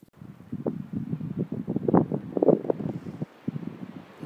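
Wind blows outdoors as low, steady buffeting rumble and gusty microphone noise, close and moderately loud, with no other sounds over it.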